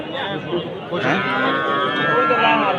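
A cow at a cattle market lets out a loud, drawn-out moo close by, running for nearly two seconds, with people chattering in the background.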